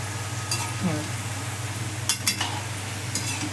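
Modak dumplings frying in hot oil, with a soft continuous sizzle under a low hum, broken by a few sharp metallic clinks of a utensil against the pan.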